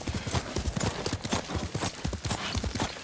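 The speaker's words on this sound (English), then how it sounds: "Yuriko's horse." Horse hooves clip-clop in the video game Ghost of Tsushima, a steady, close run of sharp hoof strikes over about three seconds, with a faint whinny-like tone in the mix.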